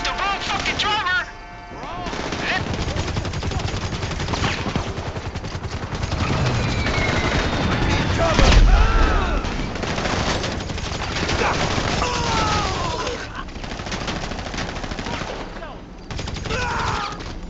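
Dense gunfire rattles through a video game shootout from a Mr Faber mutual funds mission, loud and nearly continuous bursts layered with game effects and music across the whole stretch.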